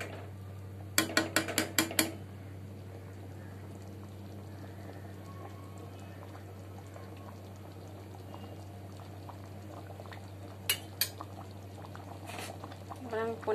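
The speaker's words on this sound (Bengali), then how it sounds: "দেখুন বন্ধুরা ফুটে উঠেছে" A pot of mixed vegetable curry with paneer bubbles and simmers steadily as a low, continuous hum, with a few sharp clinks of a utensil near the start and again toward the end.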